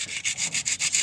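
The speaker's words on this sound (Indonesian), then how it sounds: "Oke, kita amplas dulu ya, ini sedikit aja" Sandpaper rubs back and forth on a part from a Toyota Corolla twincam. Quick, even strokes of about five per second, close and alone.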